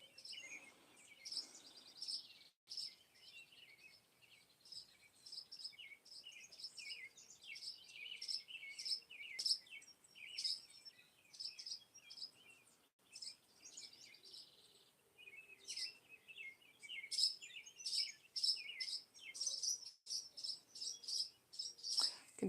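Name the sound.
birds singing outdoors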